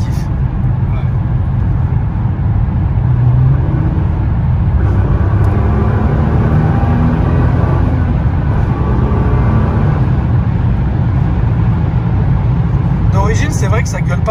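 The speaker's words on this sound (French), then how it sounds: "t'as un son qui est super satisfaisant, c'est le son des souffles du turbo" Nissan GTR driving with its engine droning and revving, turbo blow-off whooshes possible but not distinct, a loud steady low rumble throughout with a brief burst of higher chatter near the end; people talk over it.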